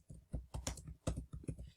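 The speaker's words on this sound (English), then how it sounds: "we'll ignore my terrible typing" Someone types on a computer keyboard at close range, with quick irregular bursts of clacking keystrokes and short pauses between them.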